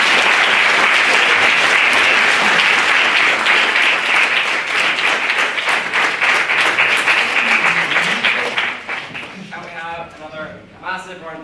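Loud, close audience applause following a student's maiden debate speech on deposing Boris Johnson, thick continuous clapping that thins out near the end as a voice begins speaking.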